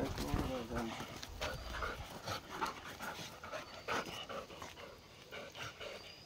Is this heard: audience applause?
no